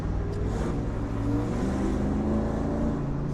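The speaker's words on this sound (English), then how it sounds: "Listen to the exhaust, no music." Mercedes-AMG G55 (W463) engine and exhaust while cruising, a steady low rumble with a deep, even drone throughout and no talk.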